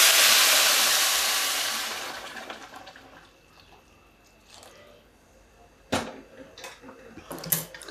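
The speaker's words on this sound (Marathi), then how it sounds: "आता घालूया गरम पाणी." Boiled water is poured from a brass pot into rice cooking for masala bhaat, with a loud rushing splash at the start that fades away over a couple of seconds, followed by quieter clinks and a few sharp knocks of utensils.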